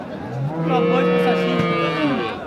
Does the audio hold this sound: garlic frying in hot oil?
no